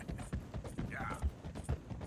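A horse's hooves clop in a quick, uneven rhythm in a Western video game, mid-distance beats mixed with faint mechanical clicking and a brief squeal.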